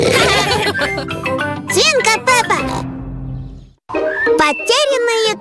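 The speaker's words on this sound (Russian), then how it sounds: "Я свинка Пеппа" Cartoon pig from Peppa Pig oinking amid lively character speech and music, several short snorting grunts close and loud, with a brief pause before voices resume.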